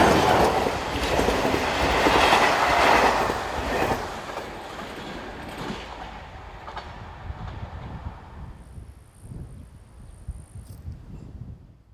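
Czech-Slovak class 757 diesel locomotive 757018 hauls a passenger train south through Klášter, a loud, steady rumble with rail noise that fades as it draws away.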